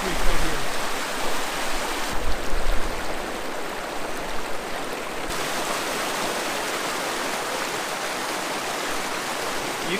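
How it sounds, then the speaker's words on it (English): Phantom Creek in the Grand Canyon rushes steadily with a constant broadband hiss of flowing water, loud and unbroken throughout, with a brief rougher patch early on. "Phantom Creek comes down here and flows and joins"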